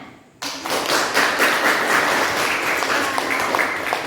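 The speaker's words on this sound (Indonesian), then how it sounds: "ya, tepuk tangan." A classroom of students bursts into applause after a short quiet moment, lively continuous clapping from many hands at close range that holds steady to the end.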